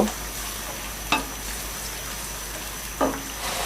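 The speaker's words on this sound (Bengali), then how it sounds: "হালকা একটু নেড়ে দিব।" Onion, garlic and ginger paste cooking in a pan gives a soft, steady sizzle, broken by two brief scraping stirs of a spoon a couple of seconds apart, close and fairly quiet.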